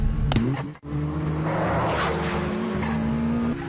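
Toyota AE86 and Nissan GT-R street racing in a film scene, engines roaring loud with a rising whine, tires squealing, and a car sweeping past amid continuous road noise.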